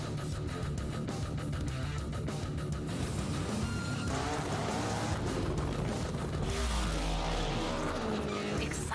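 Hoonigan special project cars in The Crew Motorfest roar and skid in a loud, continuous blend of engine drone and tire squeal, with pitch shifting as the cars accelerate and slide.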